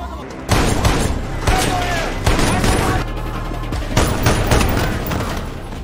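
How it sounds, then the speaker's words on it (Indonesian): Loud bursts of gunfire in an action film shootout, repeated volleys of shots roughly every second with booming impacts, voices faintly underneath. "Kemudian dengan cepat Avery menyerang Brenzov dan pasukannya hingga terjadi aksi tembak-tembakan."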